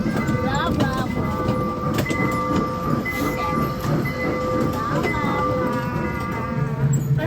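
Magic Train ride at Toronto Premium Outlets, a small rolling train giving a steady rumble with rhythmic clacking and ringing tones as it moves along.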